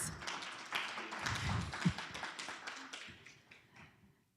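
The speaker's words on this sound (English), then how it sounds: "Round of applause." Applause from an audience at an innovation awards ceremony, a dense run of steady hand claps at moderate level that swells, then thins and fades out toward the end, with no voices over it.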